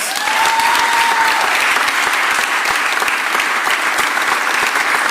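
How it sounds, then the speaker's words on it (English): Steady audience applause at a mayor's press event marking the end of a District Council 33 strike, a dense wash of clapping that holds evenly for several seconds. "Give Joe Grace a round of applause."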